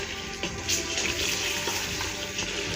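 Masala fries in oil while being mixed for degi aloo gosht, a dense continuous sizzle and bubbling with faint stirring scrapes, close and steady throughout without speech.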